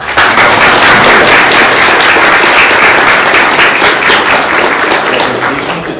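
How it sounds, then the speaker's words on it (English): Audience applause after a university lecture on meditation and mindfulness, a loud, dense burst of clapping that holds steady for several seconds and tapers slightly at the end. "this is the moment already to give a big hand of applause"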